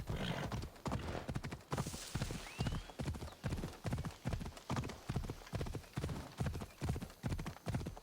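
Horse hooves gallop at a steady, even rhythm in the video game Assassin's Creed Odyssey, close and clear, with a brief whinny near the start.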